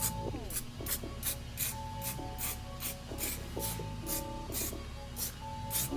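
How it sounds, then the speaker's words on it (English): Spray can applying self-etching primer to bare metal on a custom mudguard, giving repeated short hissing bursts in a steady rhythm over a constant background hum. "I'm gonna spray that for corrosion protection"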